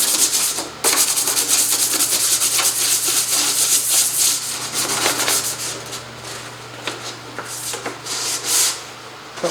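Hand sanding with 180 grit sandpaper, a steady run of close, scratchy strokes with a constant low hum underneath and no talking.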